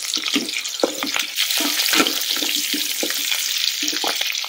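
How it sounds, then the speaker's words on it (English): Green chilies and mint leaves sizzle and fry in an Instant Pot while being stirred, giving a steady close hiss with scattered scraping clicks of a spoon throughout. "Once the green chilies are fried, add a bunch of mint leaves."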